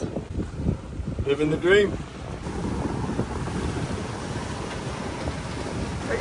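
Wind rushes steadily past a sailboat at sea in about 13 knots of breeze, with water washing against the hull; a voice speaks briefly at the start, then the roar continues alone.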